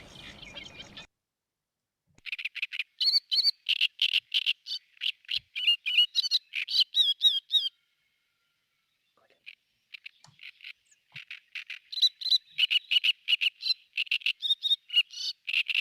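A loud, harsh, chattering great reed warbler song in rapid scratchy phrases, broken by pauses, heard close and clear with nothing else in the background.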